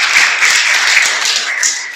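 Applause from a church congregation, steady dense clapping that holds at an even level for about two seconds with no voices over it.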